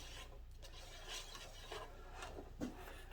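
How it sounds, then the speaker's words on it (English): Skewers stir a can of wood finish during a kitchen table top refinish, making soft, steady scraping and rubbing with faint knocks against the container. The sound is quiet and close, with no talking. "all I'm doing here, get a better grip on it, is I'm just stirring it up"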